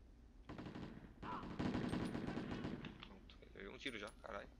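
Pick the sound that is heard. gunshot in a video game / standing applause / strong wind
gunshot in a video game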